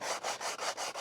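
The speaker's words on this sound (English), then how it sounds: "right now I'm just going to be going through all the surfaces and just sanding them a little bit" Wooden guitar top braces being sanded by hand, a loud, close rasping scrape repeated in six steady back-and-forth strokes with short pauses between them.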